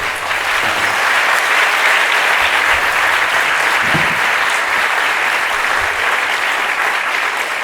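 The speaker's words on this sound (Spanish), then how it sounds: "ya voy a pedir un aplauso para él" Dense, sustained applause from an audience at a talk on fantasy, horror and science fiction in rock and heavy metal, loud and even throughout with no gaps.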